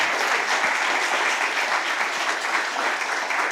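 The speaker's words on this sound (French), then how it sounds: "Je pense qu'on peut applaudir très fort nos deux intervenants." Steady, dense applause from an audience after a round-table discussion about fish, a full wash of clapping that holds evenly throughout with no speech on top.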